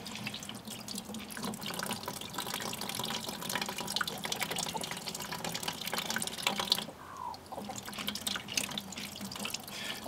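Salmon brine being poured into a bucket: a continuous splashing, gurgling stream of liquid, fairly loud and close, that briefly eases off near the end before resuming; no speech.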